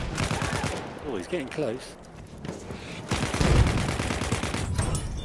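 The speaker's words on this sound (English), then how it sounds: "the fortress gun's trying to shoot me down from G." Fortress gun firing in a Battlefield video game, heavy repeated bursts of gunfire and explosions, loud and close, with someone talking over parts of it.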